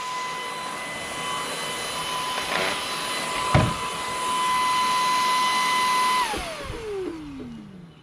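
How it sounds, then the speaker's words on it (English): Moosoo cordless brushless handheld cyclone vacuum cleaner running with a steady high motor whine, then its pitch sliding down as it powers off, close and loud. "So this is the Moosoo portable wand electric cordless vacuum, handheld with a telescoping wand"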